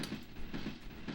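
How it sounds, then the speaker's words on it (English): A looping train sound effect from the Final Fight arcade game plays, a rhythmic rumbling clack repeating a few times per second at moderate level with no voices. "it keeps the train sound effect going"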